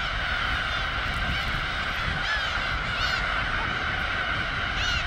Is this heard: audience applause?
no